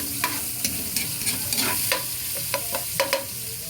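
Ginger going into a hot frying pan, with a steady oily sizzle under repeated clinks and scrapes of a utensil stirring against the pan, close and fairly loud.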